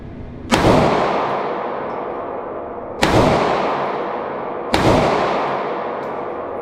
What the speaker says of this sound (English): Five more rounds, here we go.